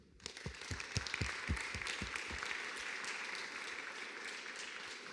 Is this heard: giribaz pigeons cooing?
no